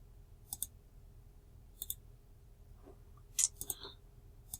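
A computer mouse clicks sparsely in a quiet room while working in Garmin BaseCamp mapping software: a few sharp, close single clicks and a quick double click spaced over several seconds, no talking.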